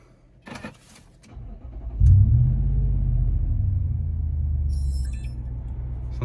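A car engine cranks and catches, then settles into a steady, deep exhaust rumble that holds at an even level.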